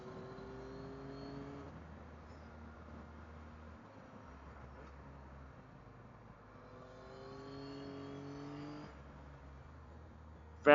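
A Yamaha Tracer 9 GT+ motorcycle with a quick shifter accelerates uphill, its engine note rising in pitch through several quick gear changes, with distinct stepped harmonics, and a sharp burst at the very end; no talking.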